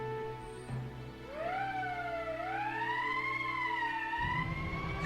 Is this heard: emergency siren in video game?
yes